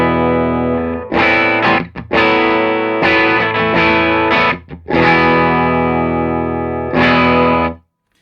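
Electric guitar, a wide range Telecaster, played through a Muir Audio Design Morphtone EQ pedal into a JTM45 amp, ringing out loud sustained chords and phrases with brief gaps, played alone.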